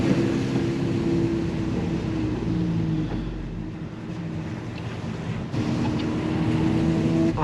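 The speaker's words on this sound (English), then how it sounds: "Apparently there are cars coming." Cars passing on a road, one of them a diesel, heard as a loud sustained engine drone and rumble from close by that dips midway and swells again, with no talking.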